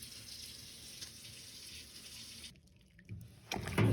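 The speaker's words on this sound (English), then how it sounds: "I'm going to just rinse this jar off" Tap water runs steadily as a canning jar is rinsed under it, a soft continuous splash that briefly cuts off and then returns louder and closer.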